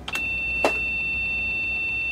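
A short electronic beep from an old PC's internal speaker sounds once, followed by a faint repeating high tone ticking evenly in the background.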